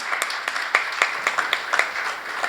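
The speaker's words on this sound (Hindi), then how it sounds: "एक बार जोरदार ताली सबके लिए" A school audience at a theatre workshop gives warm applause, with many hands clapping in a lively continuous patter and sharper individual claps standing out.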